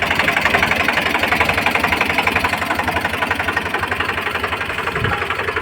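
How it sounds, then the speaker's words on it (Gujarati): An Eicher Hydromatic tractor engine chugs steadily nearby, a loud, rhythmic diesel thrum with a regular knocking pulse throughout. "આઈશર ટ્રેક્ટર હાઇડ્રોમેટિક"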